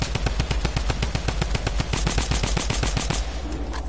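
Video game gunfire rattles in rapid automatic bursts of sharp, loud shots, dense and close, thinning out toward the end.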